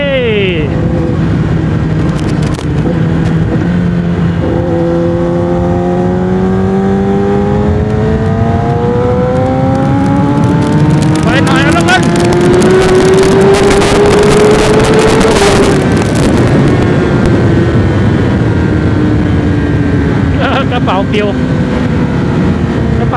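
A Yamaha R6 motorcycle engine revs high and sweeps through rising and falling pitch, loud and close, under constant wind rush while riding.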